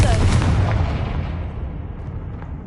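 A Confringo fire spell bursts in Hogwarts Legacy, a sharp fiery blast that hits loud at once and then decays into a fading rumbling tail over a couple of seconds.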